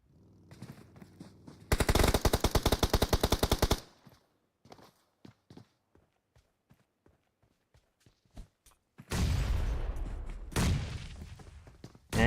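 Rapid automatic fire from an M416 rifle in PUBG Mobile during an esports match: a loud sustained burst, then scattered single shots and footsteps, then another long, heavy burst of gunfire.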